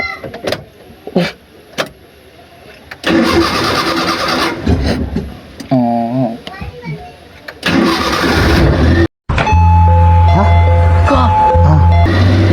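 An old Maruti Omni van that is low on fuel is cranked from close by, with sputtering starter attempts and voices talking between them, before the engine catches and settles into a loud, steady idle.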